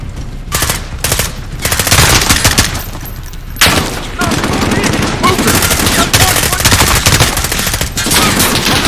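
Machine gun fire in the Call of Duty Modern Warfare video game, loud sustained bursts of rapid automatic shots with brief gaps, set within a chaotic battlefield mix.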